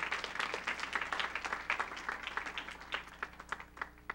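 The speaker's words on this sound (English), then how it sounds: "round of applause" Children and adults at a children's church story time clap for three contestants, a faint, uneven patter of scattered hands with individual claps standing out, quiet and somewhat distant.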